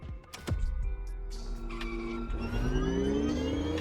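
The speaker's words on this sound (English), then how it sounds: "You can kind of hear the grumble to the engine, but you hear more of the torquey wind up" A Honda car with a V8 engine swap in The Crew Motorfest racing game revs hard, a deep grumbling note that winds up steadily in pitch as the engine climbs, loud and close with no talk.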